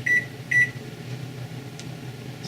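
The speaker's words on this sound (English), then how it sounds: "I usually use a timer just to remind myself" Two short high beeps from a kitchen timer being set while baking bread, close and clear over a faint steady background hum, with another beep cut off at the end.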